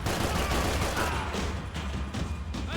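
Heavy, continuous gunfire in Max Payne 3, a dense burst of shots and rattling weapons filling the stretch loudly with barely any pause.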